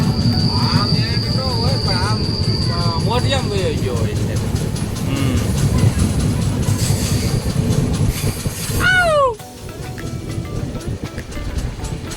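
A train rumbles steadily along the rails while rounding a curve, with rhythmic clatter and occasional squeals, loud and close, while voices talk over it.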